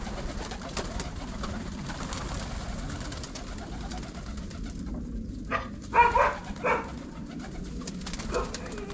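Pigeons coo softly while feeding, with a few short, low calls clustered in the middle over a steady murmur of background noise; no one speaks.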